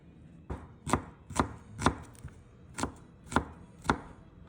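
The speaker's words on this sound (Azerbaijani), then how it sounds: "Əgər biz bunu aşkarı üçün doğrayacaqsa, kubik doğrayacaqsa" A knife dices a vegetable into cubes on a cutting board, giving seven evenly spaced, crisp chops close by with brief pauses between, and no voices.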